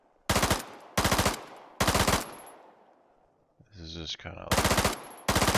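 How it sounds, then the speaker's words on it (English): Video-game automatic gunfire in Antistasi Ultimate comes in loud, sharp bursts, three quick ones, then a pause filled by a short spoken remark, then two more bursts close up. "shooting everything I can at this guy"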